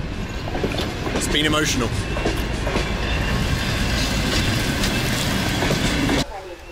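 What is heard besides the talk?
train running on rails, Grodno to Lida in Belarus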